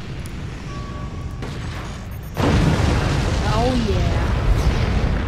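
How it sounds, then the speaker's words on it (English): Ballistic missiles explode in a video game, a loud burst at the midpoint that swells into sustained rumbling blasts and crackle, with a brief spoken voice over the din. "time to use the ballistic missiles to open her up."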